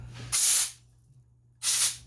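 Compressed air blasts into a disassembled Kawasaki FA210 carburetor in two loud, close hissing bursts, each about half a second long, separated by a pause with a low hum underneath.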